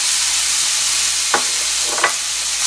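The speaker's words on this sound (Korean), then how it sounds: "대파를 먼저 볶다가 마늘을 한 반 스푼 정도 넣을게요. 고기를 넣겠습니다." Ground meat stir-frying in a pan with green onion and garlic, a constant close sizzle broken by two short scraping stirs.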